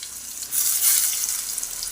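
Ground spice paste sizzles steadily in hot oil with popped mustard seeds while being sautéed for a field crab rasam, a continuous close frying hiss with a brief swell midway and no talking.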